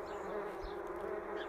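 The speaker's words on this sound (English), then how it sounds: "One hot summer in Itching Down, 4 million wasps flew into town." A swarm of wasps buzzes in a dense, continuous drone at a fairly even level, with no other sounds over it.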